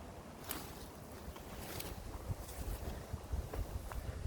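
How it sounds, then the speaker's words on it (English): Blustery wind buffets an outdoor mound in Madeley, Telford, a continuous low rumble with gusty surges and microphone buffeting, no voices. "it's a bit blustery now, so if you can hear the blowing of the wind"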